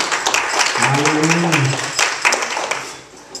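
Church congregation clapping hands in praise during a service, a brief loud burst of dense applause, with a single voice speaking over it.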